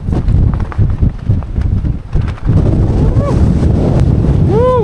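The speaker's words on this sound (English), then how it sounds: "Some seriously strong winds up here." Strong wind gusting at the summit of Mount Snowdon during a snowstorm, roaring and buffeting hard against the microphone throughout, with brief rising whistles near the end.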